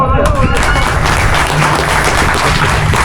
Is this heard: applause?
yes